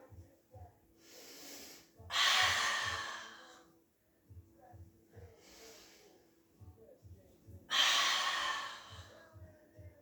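Slow, deliberate breaths in and out during a pilates exercise, heard as two long loud exhales with quieter inhales between them, close to the listener over a steady low rhythmic pulse of background music.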